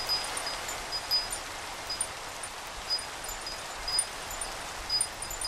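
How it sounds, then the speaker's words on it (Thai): Rain falling in the Engineer's Life Minecraft modpack, a steady soft hiss of rainfall with faint sparkling drips, continuous and unvoiced throughout. "เสียงฝนตกดังกว่าเนาะ"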